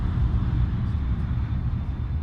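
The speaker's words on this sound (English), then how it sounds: "Starting the takeoff run now. This is the 737 MAX." A Boeing 737 MAX airliner begins its takeoff run at the Farnborough International Airshow, a steady low broadband engine roar from a distance, continuous and moderately faint across the short stretch.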